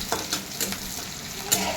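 Vegetables including beans, peas, chickpeas and tomato, fried with onion and chillies for suji upma, sizzle steadily in a pan, with a few soft scraping stirs of a spoon at irregular intervals close by.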